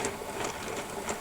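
Rock tumbler running near a workbench, a faint, steady mechanical whir with a light repetitive rattle.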